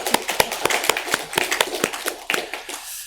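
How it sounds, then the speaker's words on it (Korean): A church congregation at a Sunday service claps for about three seconds, a fairly close, slightly uneven patter of hands that thins out and fades at the end. "우리 하나님께 감사와 영광의 박수 올려드리겠습니다."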